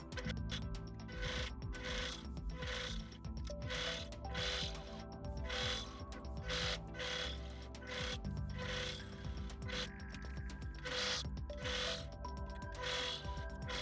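Sewing machine stitching a zigzag seam on a fabric headband made from leftover scraps, a quiet rapid mechanical whir broken by short pauses and repeated bursts.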